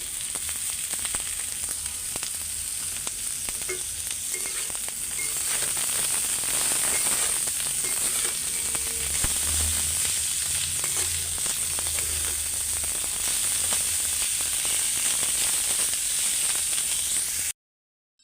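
Garlic sizzles and fries steadily in a hot pan for a long stretch, a constant close hiss with occasional soft stirring scrapes and no voices.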